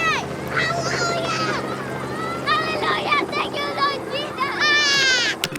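A helicopter drones steadily in the background while children nearby shout and yell excitedly over it.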